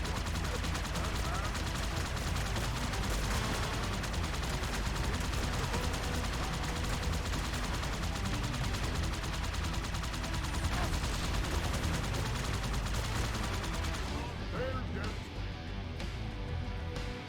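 Sustained gunfire from a Halo 2: Anniversary battle, with rapid, dense shots and explosions filling the clip continuously and loudly, mixed with game sound effects and voices underneath, easing slightly near the end.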